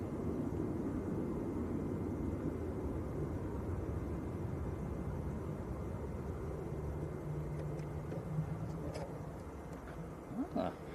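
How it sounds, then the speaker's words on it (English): A Cessna Citation business jet at Manchester Airport gives a steady, broad engine roar at middle distance, holding level throughout and easing slightly near the end, with no talking. "Nice little citation coming out"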